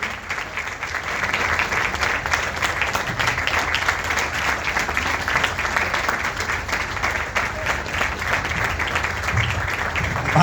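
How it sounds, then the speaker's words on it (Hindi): Sustained applause from an audience at a gathering honoring a swami, loud, dense clapping that continues without pause for about ten seconds. "तालियां बजती रहे, ताली बजते रहे।"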